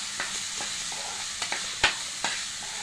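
Finely chopped tomato being sautéed in a pan for a wet cashew bhaji, with a continuous close sizzle and several sharp clicks and scrapes of a spatula at irregular intervals.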